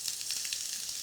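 Julienned ginger sizzles in a very hot wok of oil, a brief, fairly quiet bright crackling hiss with small popping bursts.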